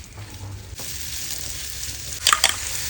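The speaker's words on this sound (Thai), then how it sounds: "น้ำมันร้อนแล้วใส่หอยลงไป แล้วก็เห็ดนะคะ ลงไปทอดให้ร้อนก่อน" Mussels and mushrooms fry in hot oil in a pan for a Thai fried mussel dish, making a close, continuous hiss with a couple of sharp crackling pops near the end.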